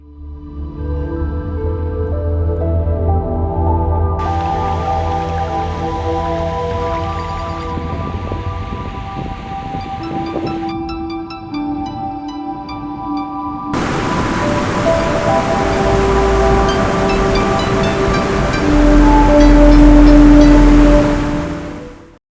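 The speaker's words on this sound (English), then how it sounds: "Probably one of the best waterfalls I ever seen." The Gljúfrabúi waterfall in Iceland pours inside a cave, a dense roaring rush of water that holds steady for over twenty seconds, growing louder and harsher in the latter half.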